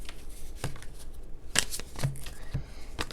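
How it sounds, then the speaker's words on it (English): Tarot cards are shuffled by hand, giving quick papery riffles and soft slaps in irregular bursts, close up, with no speech. "I'm shuffling."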